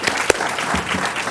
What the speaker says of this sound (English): let's give him a round of applause for all his work and service